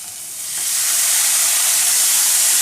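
Ground masala paste with raw ginger, garlic, curry leaves and coriander sautéing in a hot pan, a steady loud hiss and sizzle that swells in after the first half second and holds on alone.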